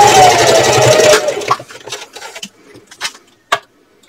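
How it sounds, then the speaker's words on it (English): A sewing machine top stitches across a purse pocket with a 1/8 inch seam allowance, a loud steady whir for about a second, followed by scattered clicks and handling knocks. "Now I'm going to top stitch across the top using a 1/8 inch seam allowance."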